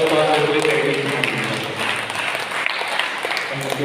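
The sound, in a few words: applause in church for parish community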